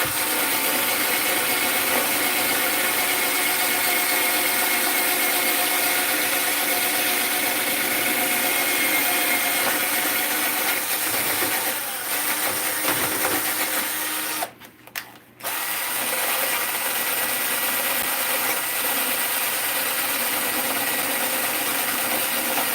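A power saw runs steadily through wood as a test cut, a loud continuous whine with only a brief break in the middle.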